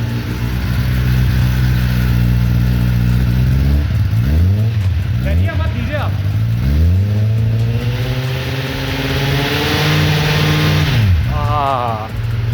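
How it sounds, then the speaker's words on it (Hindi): A 2024 Kawasaki Ninja superbike, ZX6R or ZX10R, idling in neutral then revved repeatedly with the throttle, loud and close, with rising and falling engine pitch sweeps and someone talking over it. "मैंने सुपर बाइक की आवाज़ ऐसे कान लगा के सुनी नहीं है"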